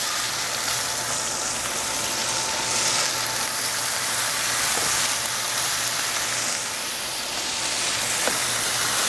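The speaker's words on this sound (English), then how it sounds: "You want to make sure when you place them in the pan that you have that sizzle." Steak searing in a hot pan for a fried steak sandwich gives off a constant loud sizzle and hiss, steady and close without any talk over it.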